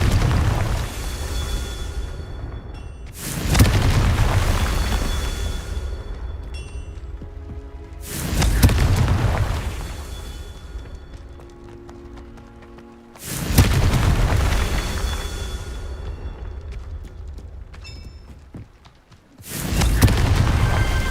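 Confringo spell explosions in Hogwarts Legacy, four heavy booming blasts spaced several seconds apart, each fading through a rumbling tail before the next.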